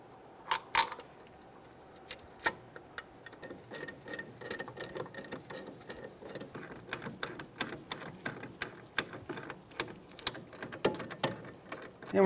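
A hand ratchet clicks in quick bursts of rapid pawl ticks while a caliper bracket bolt on a Mazda CX-9 is run in. The sound is close and fairly quiet, with short pauses between strokes.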